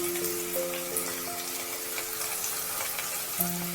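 Finely chopped onion sizzles steadily in hot oil alongside garlic and ginger, a close, continuous crackling hiss with faint stirring scrapes and a steady low hum in the background, no talking.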